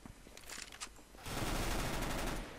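Rapid automatic fire from a PP-Bizon submachine gun in Counter-Strike GO, with sporadic shots first and then a dense sustained burst of gunfire at close range that fills the second half.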